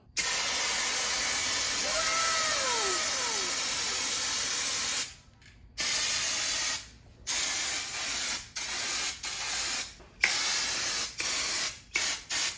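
A wide-tip turbo spray can hisses loudly in one long continuous burst, then gives a run of short, quick sprays with gaps between them while paint goes onto a Chevy rat rod.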